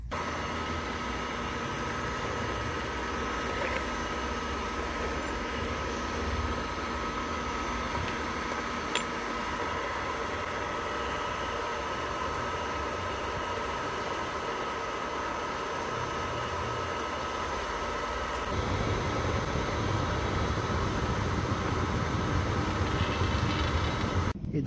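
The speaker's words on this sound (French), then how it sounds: "On va le mettre dans notre fonderie au gaz." A gas-fired foundry furnace melting PLA plastic gives off a continuous, loud roar with a broad hiss. It holds steady throughout and swells a little near the end, with no voices.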